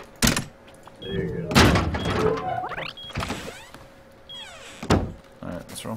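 A door in the survival game Rust gives mechanical thunks and short sliding, whirring motions, several in a row over a few seconds. People talk close by while it operates.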